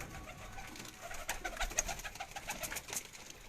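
Breeder pigeons coo softly in a loft, low repeated calls heard faintly and at a distance over a quiet hiss, with no talking.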